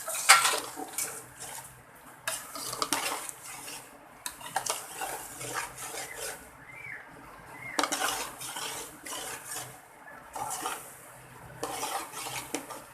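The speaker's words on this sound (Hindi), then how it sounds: "अब हम इसके अंदर चावल डालते हैं। बिस्मिल्लाह। अच्छी तरह मिक्स करेंगे।" Rice being mixed in a pot for gulati, bursts of spoon scraping and clinking against the pot in irregular strokes with short quiet pauses between, close and moderately loud.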